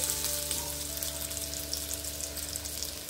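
Sweet potato slices fry in ghee with a steady, close crackling sizzle, holding even throughout with no voices.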